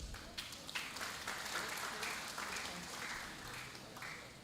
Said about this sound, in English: Give applause for him.